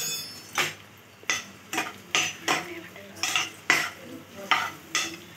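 A spoon stirs chapati noodles with chilli powder in a sizzling pan, scraping and clinking against the metal in a regular rhythm of about ten strokes over a soft frying hiss, close and unaccompanied by speech.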